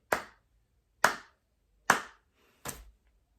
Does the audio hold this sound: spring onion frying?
no